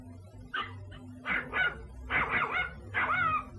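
A dog in an animated cartoon barks in a run of four or five loud, close yaps with short pauses between them, heard alone without talk.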